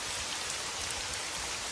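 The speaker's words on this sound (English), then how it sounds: "Oh, it's raining." Steady rain falls in a video game, a dense, even hiss of drops on surfaces with no pauses and no voices over it.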